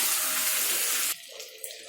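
Spice-washing water pours into a pot of chicken curry with meat and potatoes, a steady close hiss of running liquid that stops abruptly, followed by faint clinks and small kitchen sounds.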